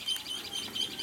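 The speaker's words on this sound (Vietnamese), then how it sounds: "Chim bố mẹ thì vẫn nhiệt tình kêu bảo vệ tổ." Parent birds near a nest, Asian koel context, giving rapid high chirping calls mixed with fluttering wings, close and fairly faint, with no talk.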